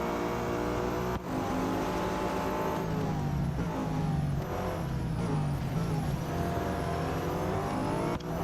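A petrol race car engine in the Real Racing 3 racing game drones continuously and loudly, with a steady revving tone shifting gradually in pitch as the car accelerates, and brief dips where gears change.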